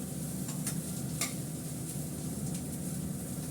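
A pan of food is stirred steadily on the stove to stop it burning, with a soft continuous sizzle beneath and a few brief scrapes of the spoon against the pan.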